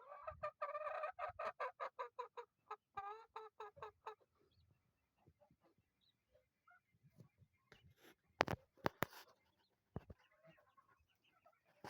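A chicken clucks in a rapid run of close, repeated calls, then goes quiet apart from scattered faint clucks and small knocks.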